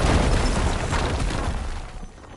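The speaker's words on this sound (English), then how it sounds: "would you mind warning me next time you decide to, blow up a wall?" A wall blown up in Horizon Forbidden West lands as a loud, broad explosion at the start, then a dense rumbling roar that slowly fades over a couple of seconds.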